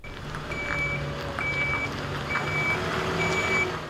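A gritting lorry in Leicestershire sounds its reversing alarm: a steady run of evenly spaced high electronic beeps, loud and fairly close, over a low idling diesel engine rumble.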